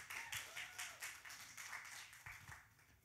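Faint, scattered clapping from a church youth-group audience, a few hands patting out loose, uneven claps at a distance, with no voices over it.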